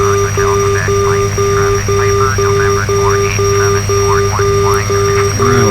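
Regular beeping of the outer marker beacon in the FSX flight simulator, aboard a Malibu PA46T Jetprop on an ILS approach, pulsing steadily over a constant engine drone as someone talks.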